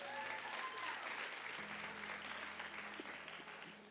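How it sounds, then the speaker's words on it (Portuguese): An audience at a Portuguese-language sermon breaks into applause, a dense wash of many hands clapping that stays loud and steady and fades slightly toward the end, with a low hum underneath. "Dá uma salva de palmas para ela, por favor."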